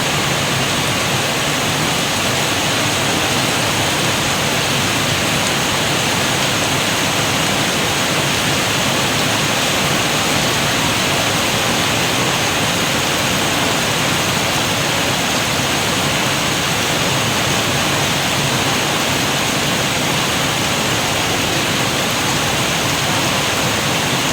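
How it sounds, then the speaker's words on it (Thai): Heavy rain pours down in a steady, unbroken hiss that stays loud and close for the full twenty-four seconds, with no other sounds standing out. "ตอนนี้ฝนตกนะคะ"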